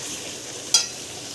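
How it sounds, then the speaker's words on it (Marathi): Coriander leaves frying in oil, a soft steady sizzle with one brief sharp clink of a utensil partway through. "तेलामध्ये थोडीशी कोथिंबीर पण टाकायची, कारण ती छान फ्राय होते"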